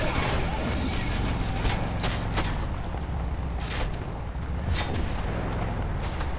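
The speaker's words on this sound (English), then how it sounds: "They're firing big things at us. I heard some explosions." Explosions and heavy fire from an EDF ship called the Hydra in the video game Red Faction Guerrilla, with repeated loud booms and blasts bursting over a constant rumbling battle din.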